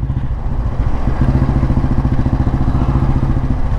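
A 1957 Royal Enfield Bullet G2 vintage motorcycle runs close up, its single-cylinder engine giving a loud, even, rapid thumping beat with a mechanical clatter. No talking is heard.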